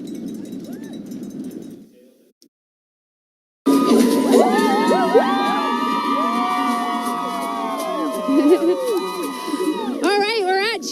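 At a cheer zone of the Toronto Waterfront Marathon, a lively crowd cheers, whoops and shouts with a cowbell clanking. The noise bursts in after a brief silence, following a voice speaking at the start.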